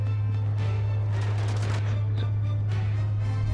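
Rapid, continuous Gatling gun fire in the video game Uncharted 3 crackles over a loud steady low hum, a dense rattling burst of shots from heavy weapons.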